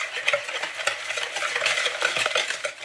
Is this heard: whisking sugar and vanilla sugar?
yes